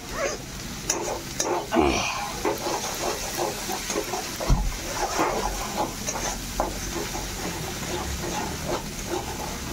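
Paneer, pointed gourd and potato are stirred and fried in a pan, giving a steady close sizzle with repeated scraping and clattering stirring strokes and a few louder knocks throughout.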